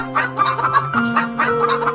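Cartoon farm chickens cluck in a run of close, loud, repeated bursts with a rhythmic, slightly musical tone and no talking.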